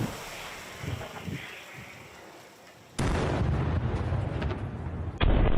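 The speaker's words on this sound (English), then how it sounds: "That's when the Ukrainian artillery received the coordinates and opened fire." Ukrainian artillery fire striking an abandoned, damaged Russian tank: a distant rumbling boom over wind-buffeted ambience, then a sudden loud, sustained roaring blast and a final heavier jolt.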